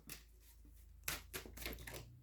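Tarot cards being shuffled by hand make a few soft, crisp riffling and clicking bursts, faint and close, with no talking.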